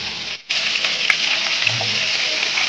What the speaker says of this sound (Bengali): পটলগুলোকে হালকা ভেজেই তুলে নিতে হবে, বেশি ব্রাউন করে ভাজা যাবে না।